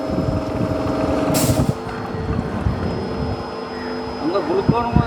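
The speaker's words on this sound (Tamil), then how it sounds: "மோட்டோட சத்தம் கொஞ்சம் டிஃப்ரெண்ட்டாக இருக்குங்கோ" A motor runs steadily with a droning hum and tonal whine throughout, a short hiss of air bursting out partway, with faint voices in the background.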